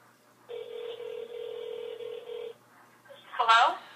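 A telephone rings out once in a long steady electronic burst during a prank call, followed by a short pause and then a brief burst of a voice on the line.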